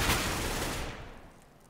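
Pistol gunfire in Counter-Strike on the Cache map during a DreamHack Open Summer 2015 qualifier match: a dense, loud burst of shots that fades away over the next second.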